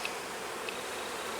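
Honeybees swarm around an open hive frame of drawn comb filled with nectar, making a dense, continuous buzzing up close with no pauses.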